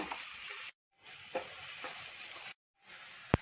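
Spiced masala for a duck roast sizzles quietly in a pan as it is stirred, a soft hiss cut by two sudden gaps of silence, with a few light scrapes and one sharp knock near the end.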